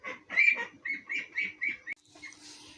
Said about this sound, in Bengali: যে হাঁস চিল্লাচ্ছে তো উঠে দাঁড়িয়েছে।